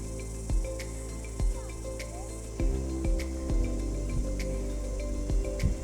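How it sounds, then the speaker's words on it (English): Crickets chirp steadily on a hiking trail up to the Centre of New Zealand summit in Nelson, with a few soft thumps and rustles nearby. "You can actually hear the sound of the crickets while doing the trek going up to the summit"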